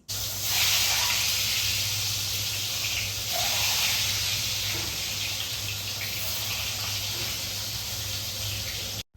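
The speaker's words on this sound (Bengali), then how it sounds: "নুন হলুদ মাখিয়ে রাখা ডিমগুলো এখন ভেজে নিচ্ছি" Eggs coated in salt and turmeric fry in hot oil, a loud, continuous bright sizzle and hiss that holds steady throughout and stops abruptly at the end.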